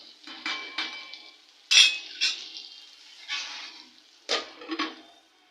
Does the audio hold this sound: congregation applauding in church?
no